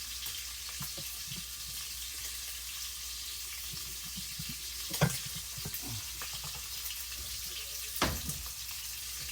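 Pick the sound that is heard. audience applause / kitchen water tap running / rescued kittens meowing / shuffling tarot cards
kitchen water tap running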